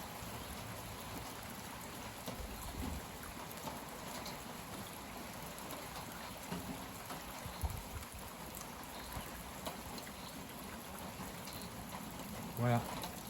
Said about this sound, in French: Ça s'est nettement rafraîchi et maintenant il pleut modérément.